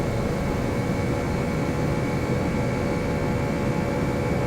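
Airbus A318 jet engines in Flight Simulator X spool up for takeoff on the runway, a steady, loud broadband roar with a constant hum, sustained without letup and free of talk.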